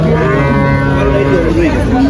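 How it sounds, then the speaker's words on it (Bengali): A dairy cow at the Tepakhola cattle market in Faridpur lets out one long, loud moo very close by. The low voice wavers in pitch and lasts the whole two seconds. "এই দেখুন গাভী উঠছে"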